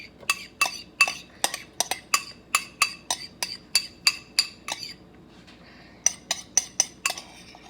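Sour cream being whisked in a bowl for chicken goulash gives a close run of sharp, regular clinks of whisk against the bowl, briefly pausing before resuming.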